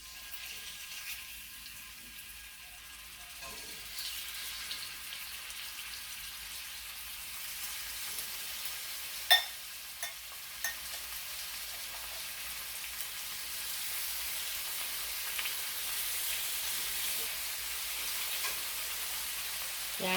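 Pork tapa and garlic fry in oil in a pan, giving a faint, steady sizzling hiss with an occasional small pop.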